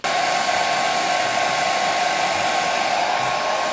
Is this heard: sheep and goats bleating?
no